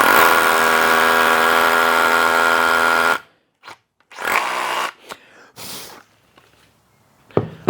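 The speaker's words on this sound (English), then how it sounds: "Let's go ahead and drill a hole." A power drill bores a hole for a drop-in anchor with a loud, steady whine lasting about three seconds. Short scraping knocks follow, then a sharp clack at the end.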